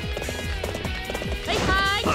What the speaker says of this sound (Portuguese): Por enquanto o cavalo é muito lento.